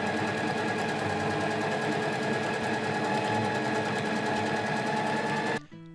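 A sewing machine stitches fabric for an IKEA chair's backrest, a loud, close, fast mechanical whir with steady rapid needle clatter that runs continuously, then stops abruptly near the end.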